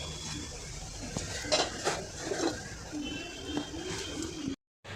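A lid is placed over a pot of fish curry, making a few light metallic clinks and scrapes of cookware. Faint birdsong coos sound in the background, and the clip cuts to silence near its end.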